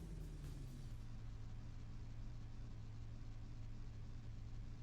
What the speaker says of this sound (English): Oh, I heard that turbo kick in.